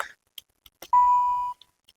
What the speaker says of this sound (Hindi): सो यू कैन सी पहला ही बीप बजा।